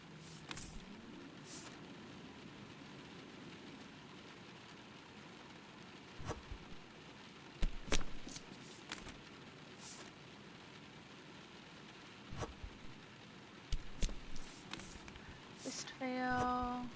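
Rain falling in a spooky video game, a soft continuous patter with scattered louder clicks and thumps, ending with a brief tonal chime.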